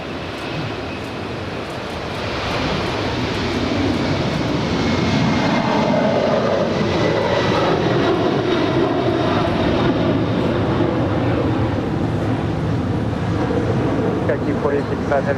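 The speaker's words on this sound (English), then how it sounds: "that is Skylease 4855 off to Wuhan, 17-year-old 747-400ER" A 17-year-old Skylease Boeing 747-400ER departs LAX with a loud, swelling jet engine roar that builds and holds steady, while a voice talks over it.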